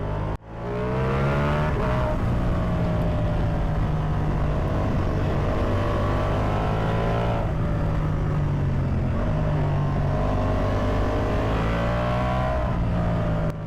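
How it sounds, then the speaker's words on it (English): Ducati motorcycle engine droning steadily while riding a California road, with loud harmonic engine tones rising and falling as the rider shifts and throttles, continuous and close. "Oh man, I just love the sound of my bike."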